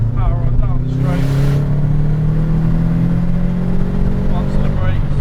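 A Subaru Impreza WRX STI powers down a track straight, its engine revving loud and close with rising harmonic pitch, a steady sustained drone held over the whole stretch, with a driver talking over it.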